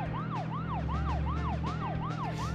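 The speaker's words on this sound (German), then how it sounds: "Irgendwie wird das Auto nicht mehr schneller, wenn ich die Sirene drücke, oder?" Car siren from the video game Deadly Premonition wails in a fast, regular up-and-down sweep, about eight cycles, loud and steady over a low engine drone, with no talk.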